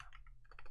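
Quick light keystrokes tap on a computer keyboard, a brief soft flurry of several clicks close to the microphone.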